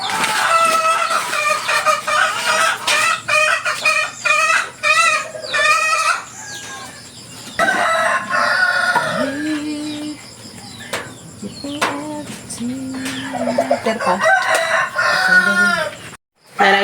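Chickens and roosters on a farm crowing and clucking almost continuously, several birds loud and close with overlapping calls throughout.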